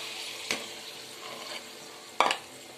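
A spoon stirs a thick gram flour (besan) mixture cooking in a pan, giving a low simmering hiss broken by a couple of sharp scrapes and knocks against the pan, close and without talk.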